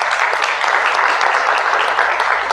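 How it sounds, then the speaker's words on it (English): Audience applause at a Saturday educational achievement seminar, a steady, dense wash of many hands clapping close and fairly loud throughout, with no talk over it. "I want us to give a round of applause for Dr. Lucero."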